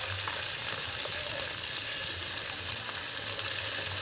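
Salted tomatoes and onions fry in a pot over a wood-fire stove, a dense, even sizzle heard up close with a low rumble beneath, steady throughout and without speech.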